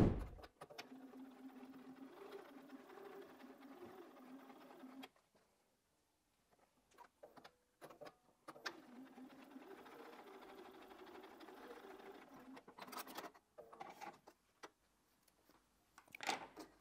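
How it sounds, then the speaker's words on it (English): A sewing machine stitches fabric pieces for a four-patch quilt block, running in steady bursts with brief pauses between seams, fairly close and moderately loud. "So we're going to take these to the sewing machine, we're going to sew them"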